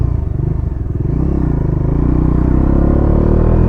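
A Bajaj Dominar 400 motorcycle engine runs loud and close, a steady throbbing idle that rises slightly in pitch and stays continuous throughout, with no voices.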